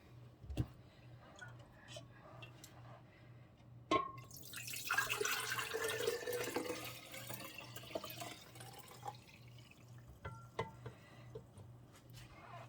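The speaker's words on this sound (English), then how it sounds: "Alright, and I'm going to pour this back into my jar." Lilac jelly liquid is poured back into a jar, a soft splashing trickle lasting several seconds, followed by scattered drips and small clinks in a quiet kitchen with a faint steady hum.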